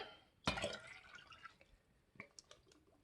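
Liquid eases slowly through the pour spout of a glass jar while refrigerator dill pickles are being made, starting with a sudden splash and then thinning into scattered drips and small trickles nearby.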